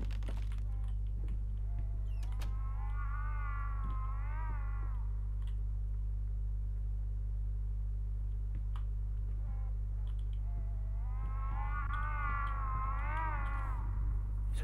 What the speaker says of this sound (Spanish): ¿O es un gato ahí en celo?